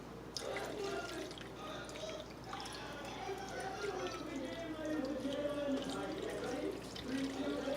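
Water poured into a roasting pan holding oven-roasted chickens, a steady soft trickle and splash running under kitchen room noise with faint background voices.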